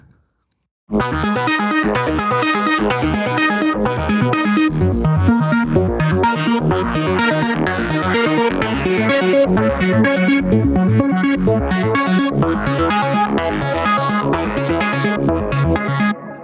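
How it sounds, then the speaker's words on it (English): A bright Omnisphere 2 synthesizer arpeggio patch cycles rapidly through notes in a steady, driving pattern, loud and continuous after a short silence at the start. "The next one is also an arpeggiation type sound."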